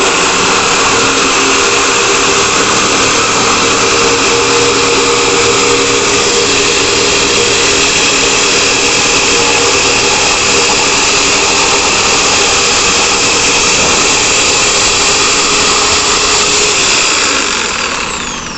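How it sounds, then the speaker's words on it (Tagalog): A Lotus 550W electric jigsaw cuts a curve, giving a loud, steady high-pitched motor whine with a rapid blade buzz that holds nearly constant throughout and eases slightly at the very end. "first time ko na lang ulit gumamit ng Jigsaw after how many years"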